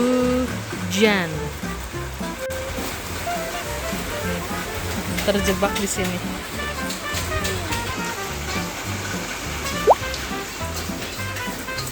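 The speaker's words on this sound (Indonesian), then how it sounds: "Hujan." Steady rain pours down with a constant hiss and patter during a rainy-season day, while children and an adult talk over it throughout.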